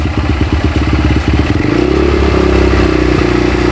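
Minerva 200 motorcycle engine idling with a lumpy, pulsing beat, then revved up into a higher, steady throttled drone, loud and close, no talk.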